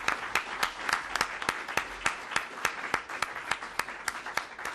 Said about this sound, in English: please join me in a round of applause for an outstanding presentation.